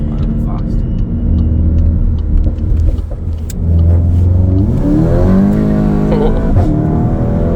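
A Mk8 VW Golf GTI engine with its particulate filter deleted revs hard and climbs in pitch under load, loud and close, with a brief exclamation from a voice over the roar.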